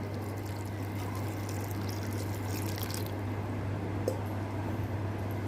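Water pours steadily into a home-cooked food mixture seasoned with salt and is stirred in, a continuous close trickle over a low background hum with no voices.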